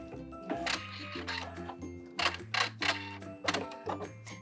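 A sewing machine stitching and back-stitching a seam on a summer wrap dress, in short bursts of rapid mechanical whirring with brief stops between runs, close and fairly quiet.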